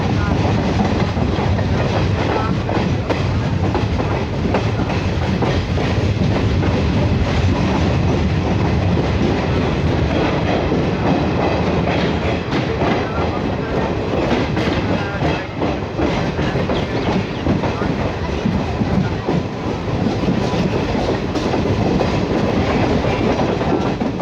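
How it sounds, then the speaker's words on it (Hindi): A train running from Katihar to Tatanagar clatters steadily over the tracks, a loud, continuous rumble with rhythmic clicks, heard close up with no talking. "ट्रैक साउंड सुनो भाई, ट्रैक साउंड"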